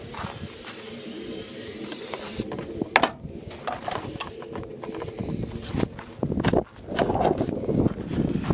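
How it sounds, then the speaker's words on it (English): Cheap aerosol hairspray hisses in several short bursts into the barrel of a homemade potato cannon outdoors, loud and close, with bumps and handling noise between sprays. "Put just ordinary hairspray, cheap Walmart stuff. Spray it in."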